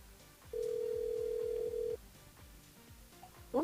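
A telephone rings once during a French-language call-in radio show, a steady electronic ring lasting just over a second over a low background hum, followed by a faint short chirp near the end.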